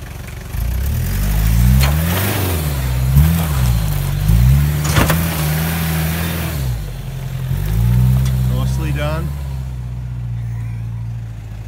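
A Toyota Hilux 4x4 engine revs hard in a forest, its pitch rising and falling repeatedly as the wheels spin, loud and close and continuous, easing toward a lower steady drone near the end.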